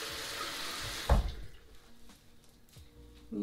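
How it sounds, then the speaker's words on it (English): Water is poured onto curly hair during a wash, a short splashing pour at the start that fades into a quieter trickle and drips, close and fairly soft. "I'm also going to apply some water as well."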